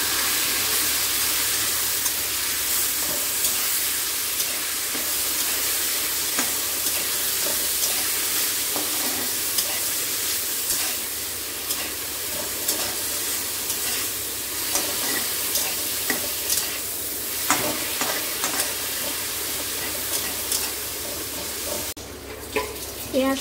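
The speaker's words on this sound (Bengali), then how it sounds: "এইবার এই তেলের মধ্যে আমি তুলে দেবো পেঁয়াজটা। এবার পেঁয়াজটাকে খুব ভালো করে কষাতে হবে।" Onion frying in hot oil in a home kitchen pan, a steady sizzle with frequent scraping stirs and clinks of a spatula throughout, fairly close and loud, no talking.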